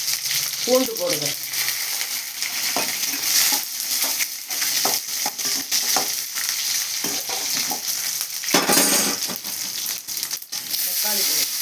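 Garlic fries and is stirred in a pan for an egg masala curry, a continuous close sizzle. Spoon scrapes and clattering stirs run throughout, with a short spoken moment near the start.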